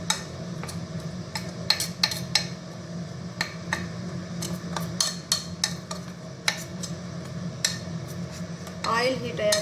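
A spoon clicks and taps rapidly against a bowl while gram flour pakoda batter is stirred, a busy irregular rattle of light knocks over a soft kitchen background.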